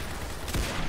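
A headshot gunshot in a competitive shooter game on the Township map, heard as one sharp, loud report about halfway through over dense, steady game noise.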